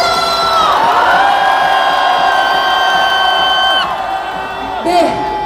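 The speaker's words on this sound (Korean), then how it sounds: "우리 모두를 함성하며 힘차 함성 질러봅시다" A large street rally crowd for a presidential impeachment protest in Yeouido near the National Assembly roars with sustained cheering and shouting, while a loud sustained tone rings through most of it.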